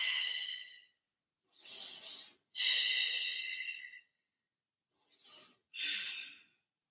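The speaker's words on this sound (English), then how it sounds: "Deep breathing." Slow, deep breaths during a flowing yoga sequence, several long airy inhales and exhales separated by short pauses, close and fairly soft with no talking.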